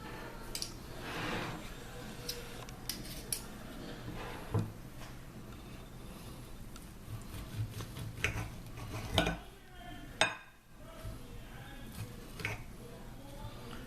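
A knife and fork work through a sous vide ribeye, cooked with an Anova Precision Cooker and seared on a charcoal grill, giving scattered light clinks and scrapes of cutlery on a plate, fairly close, with a voice talking intermittently.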